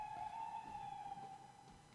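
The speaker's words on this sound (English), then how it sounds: "That was a weird siren," A strange, steady siren tone holds one pitch for two seconds, faint and distant with no voices.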